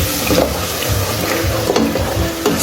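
Spice paste for jollof rice being stirred in a pot: repeated scraping strokes over a steady frying sizzle, close and fairly loud, with no talking.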